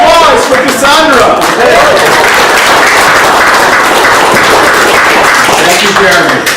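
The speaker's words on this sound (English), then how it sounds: "Round of applause for Cassandra." Audience applause for a magician at an International Brotherhood of Magicians ring show, loud and steady with scattered claps, partly mixed with voices and background talk throughout.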